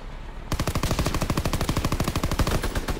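A sudden burst of rapid automatic gunfire in Call of Duty WWII zombies mode, with close, loud, evenly spaced shots running continuously for about two and a half seconds.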